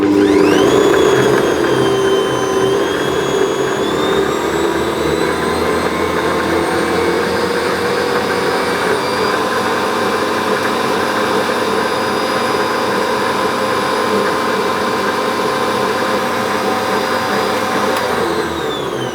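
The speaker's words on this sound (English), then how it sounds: "I'm going to whisk that to make it nice and fluffy, scraping down the sides as I need to." An electric hand whisk whips butter in a bowl for shortbread, giving a loud, steady motor whir that runs unbroken for the whole stretch with no talking.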